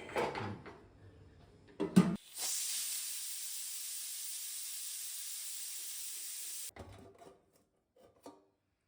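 Loud, steady hiss of steam venting from a pressure cooker while veg pulao cooks, holding for about four seconds after a few clatters, then cutting off abruptly.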